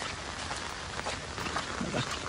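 Steady rain falls outdoors during a walk near a lake in the monsoon, a dense even patter close by with no voices, holding at a constant low level throughout.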